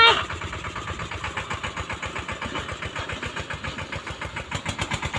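A mini tractor engine starts in a wheat field, then settles into a steady, rhythmic mid-pitched chugging idle heard up close, with brief background voice near the start.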